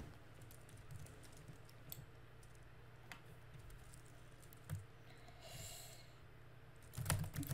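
Rapid keystrokes on a computer keyboard during a typing race, a fast irregular patter of clicks at close range with a few louder thumps and a short burst of noise near the end.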